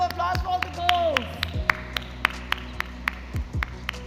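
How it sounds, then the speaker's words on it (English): Sparse clapping for graduating girls at a convocation ceremony comes as a slow, steady run of distinct individual claps over a faint background hum, with a few tonal sweeps mixed in. "So big round of applause for all the girls"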